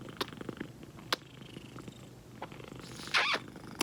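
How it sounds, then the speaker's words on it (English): Pet cat purring close up in a quiet morning moment, a soft continuous rumble broken by a few small clicks and a brief rustle near the end. "monkey is a kitty"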